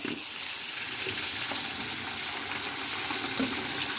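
Continuous running water hisses steadily from a tap, splashing over boiled mushrooms in a bowl or colander as they are rinsed, close and fairly loud, with no talking.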